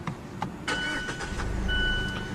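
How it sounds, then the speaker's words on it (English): A 2015 Mazda CX-5's 2.5-liter Skyactiv-G four-cylinder engine starts by push button with a short whir and catches into a steady idle, heard up close at moderate volume. "put your foot on the brake and push the button to start the engine"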